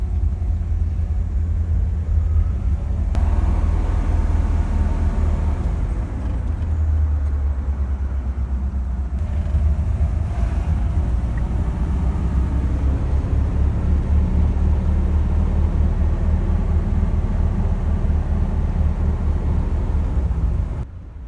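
A 1957 Ford Thunderbird with a three-speed gearbox driving along, its engine giving a loud, steady low rumble that continues throughout with faint wind and road noise.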